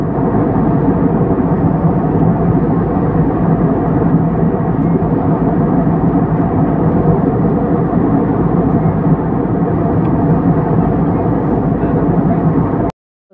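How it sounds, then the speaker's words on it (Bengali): Inside an airliner cabin in flight from Goa to Kolkata, a loud, steady broadband roar of engines and airflow runs unbroken for over ten seconds, then cuts off abruptly. "যখন মানে টেক অফ করছে, মানে প্লেনটা উঠছে সবে"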